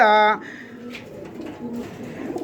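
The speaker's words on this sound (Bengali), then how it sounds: "খুবই চমৎকার একজোড়া বন্ডি রেড কবুতর" A pair of Bondi Red pigeons coos at a pigeon farm: one loud, close coo at the start, then quieter throaty murmurs, with a voice speaking nearby.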